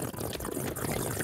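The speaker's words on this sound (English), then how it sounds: "Hackle's drinking the water!" Water being drunk in Minecraft, a steady liquid pouring and trickling sound lasting just over a second, fairly loud and continuous with no talk over it.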